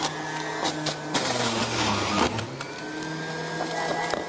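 Juicer extractor grinding carrots: a loud, steady motor whine with shifting pitch and crunching surges as pieces are pushed through, nearby and without speech.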